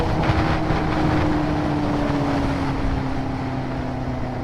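A motorcycle lane-splitting slowly through stopped traffic, its engine a steady, close drone with a faint whine and wind rush, holding an even level throughout with no talking.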